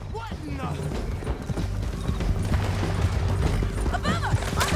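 Horse hooves clip-clopping in Red Dead Redemption 2 during a mounted escape, a steady galloping rhythm under loud game action, with voices talking over it.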